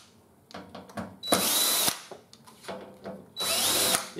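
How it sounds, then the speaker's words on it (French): A power screwdriver removes the fan screws from an Onkyo TX-NR838 receiver, giving two loud whirring bursts of a second or so each. Short clicks and handling knocks come between and around them. "J'enlève tout de suite également les deux vis du ventilateur qu'il va falloir que j'enlève de l'appareil"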